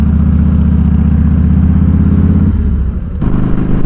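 A Harley-Davidson Fat Boy Softail with an 88 Twin Cam engine cruising on the road, a loud, close, steady V-twin rumble that shifts in pitch near the end.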